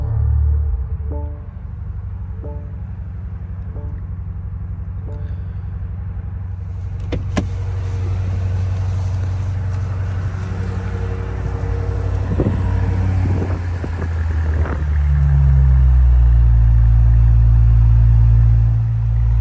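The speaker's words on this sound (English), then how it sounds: "this car just kind of whirs to life" A 2025 BMW M5 G90 hybrid whirs to life at the press of the start button with no starter crank, a low engine rumble building and swelling louder near the end, preceded by faint interior chimes and clicks.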